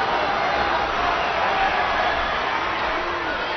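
A wrestling crowd cheering and applauding in an arena, a dense steady roar of voices and clapping that stays loud and continuous throughout.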